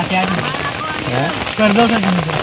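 Heavy monsoon rain falls beside a creek in a steady hiss, with people talking over it in the foreground.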